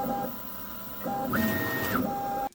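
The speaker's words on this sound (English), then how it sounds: "it did one final brush and then it's doing the purging line" A K1 Max 3D printer laying down its purge line, with steady stepper-motor whines that rise and hold in pitch, shifting tone several times over a continuous mechanical hum, close and fairly loud.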